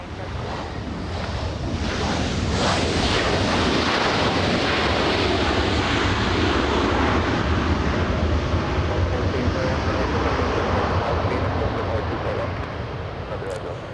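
Broad, steady roar of a Boeing 787 Dreamliner airliner at Los Angeles airport, loud and continuous for the whole stretch, blended with wind-like rushing.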